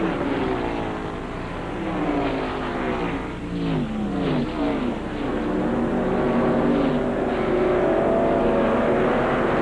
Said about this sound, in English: All these slower cars mixed in with the fast cars.